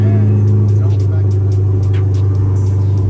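Cranked-up 2022 Corvette C8 engine with a suspected transmission fault, a loud steady low rumble with faint rev changes, recorded close with the engine running throughout.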